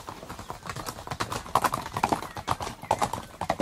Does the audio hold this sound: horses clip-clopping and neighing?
yes